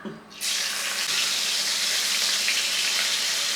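Dried fish dropped into a hot pan bursts into a loud, broad sizzle that holds steady and close, with no talking.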